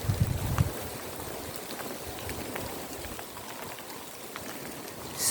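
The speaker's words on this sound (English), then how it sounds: "I'm not sure if all this rain is going to be a good idea on the phone" Steady rain falls outdoors on boggy countryside with brambles, a constant soft hiss with a brief low rumble of handling noise at the start.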